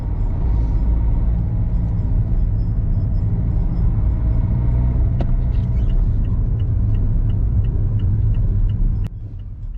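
A car drives through East Garton village in the East Riding of Yorkshire, giving a loud, steady low rumble of engine and road noise throughout, with a few faint clicks near the end.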